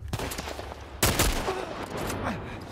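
Gunfire in The Last of Us Part 1 remake: one loud, sharp burst of shots cuts in partway through, then tails off over low game ambience and soft background sounds.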